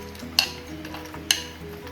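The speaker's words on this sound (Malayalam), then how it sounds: "അതിൻ്റെ മാങ്ങ പീസസും അതുപോലെ തന്നെ കാഷ്നട്ടും കിസ്മിസും ചേർത്ത ശേഷം നന്നായി ഇളക്കി യോജിപ്പിച്ചിട്ടുണ്ട്" Mango payasam being stirred with roasted mango pieces, cashews and raisins, a soft bubbling simmer with two brief spoon scrapes against the pot.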